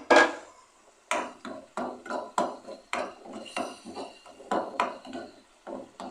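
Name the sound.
adding spices to fried onions in karahi pan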